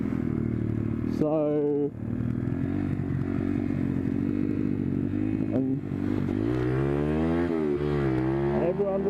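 A pit bike with an aftermarket exhaust rides on city roads, its loud, raspy engine revving and dropping in pitch through gear changes, close and dominant, with someone briefly speaking over it.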